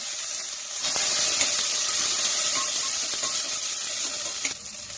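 Fenugreek seeds, curry leaves and chopped shallots frying in hot oil in a home kitchen, a steady loud sizzle that flares up after a quiet first second and holds evenly throughout with no voices.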